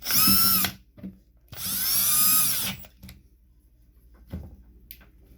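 A power drill drives screws back into a Man-brand electric fan under repair, running in two loud whirring bursts of under a second and about a second, followed by softer clicks and handling knocks.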